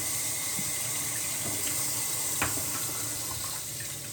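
Faucet water runs steadily into a sink while a face is rinsed after shaving, a soft continuous hiss with faint splashes, heard quietly with no speech.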